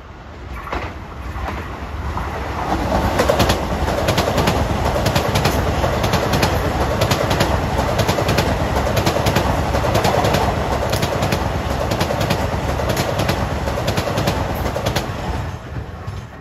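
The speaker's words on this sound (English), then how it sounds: "M9's heading east at 5:50." An eastbound LIRR M9 electric train passes Elmont station during the evening rush. It makes a loud, continuous rumble with rail clatter that swells quickly, holds for over ten seconds, then eases slightly. No one speaks.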